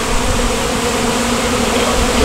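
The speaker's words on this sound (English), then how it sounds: "I can tell when there's a bee flying around my ear or something, if it's a drone or a worker" Honeybees, both drones and workers, buzz close by in a steady, dense drone with no breaks, loud and near throughout the short stretch.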